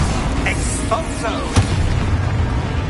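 An Expulso spell goes off in a video game with a single muffled boom and burst near the middle, set against a dense, rumbling game soundscape.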